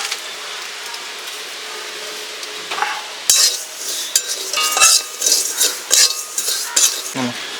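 A spoon scrapes and stirs poppy seeds as they dry-heat in a pan before being ground for Bengali rui posto. The clinks and scratches start soft and grow busier and louder, with no voices.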